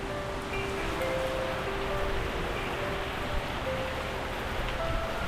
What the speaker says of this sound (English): Look at those sheets of rain coming.